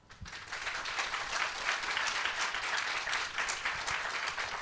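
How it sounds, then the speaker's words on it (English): An audience in a tent applauds panel speakers at the close of a discussion on tech and democracy, with dense, sustained clapping that holds steady throughout at moderate distance, with no talk over it. "I want you to give a round of applause for Stefan, Jacob, Arune."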